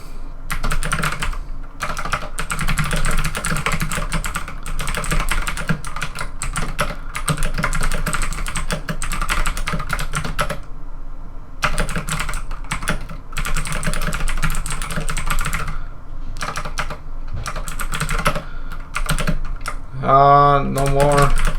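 Rapid keystrokes clatter on a computer keyboard in bursts and short pauses, close and fairly loud, as someone types notes for a long stretch, with a brief voice-like tone at the very end.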